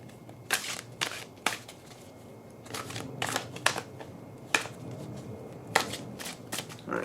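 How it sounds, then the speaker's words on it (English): Tarot cards are shuffled by hand, giving a quiet series of crisp riffling bursts and soft taps at an irregular rhythm against a hushed room. "So we're going to go ahead and shuffle."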